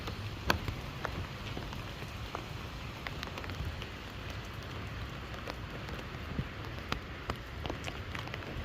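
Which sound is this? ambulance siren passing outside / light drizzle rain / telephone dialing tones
light drizzle rain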